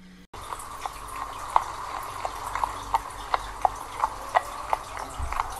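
Hoofbeats of a billy goat trotting across a wooden bridge, a storytelling sound effect: a steady series of about a dozen sharp, hollow clip-clop knocks at an even pace over a low background hiss.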